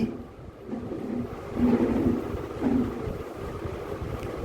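Steady wind buffets the microphone with low rumbling gusts that swell and ease, continuous throughout.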